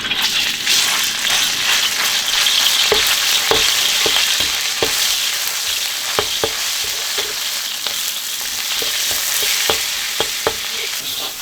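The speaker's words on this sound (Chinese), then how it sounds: "把肉先煸香哈" Pork belly is stir-fried in hot oil in a wok, giving a loud, steady sizzle up close, punctuated by sharp spatula scrapes and clanks against the metal at an irregular rhythm, with no talking.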